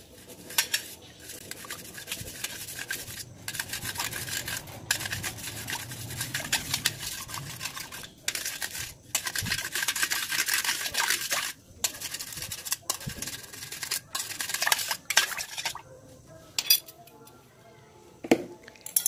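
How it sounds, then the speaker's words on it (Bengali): Colgate toothpaste is stirred into half a litre of water in a bowl, producing continuous close scraping and clinking of a utensil against the bowl in a busy, uneven rhythm with short breaks, and no talking. "এবারে জলের সাথে কোলগেটটিকে খুব ভালো করে মিশিয়ে নিতে হবে"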